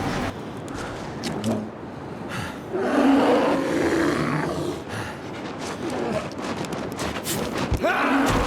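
A bear in the survival video game The Long Dark roars and snarls loudly and continuously over several seconds, with rough growling bursts and scuffling impacts during a fight.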